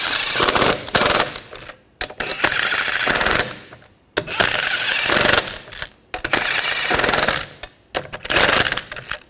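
Impact wrench snugging down the wheel lug nuts on a 2013-2019 Ford Escape: four loud, rattling bursts of hammering, each lasting one to two seconds, separated by short pauses.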